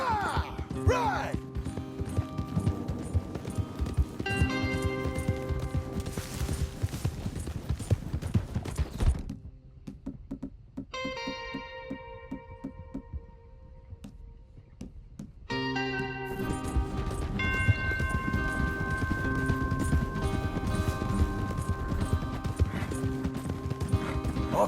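Rhythmic hoofbeats of horses galloping in a video game, with music playing and occasional voices, pausing briefly midway before the galloping resumes.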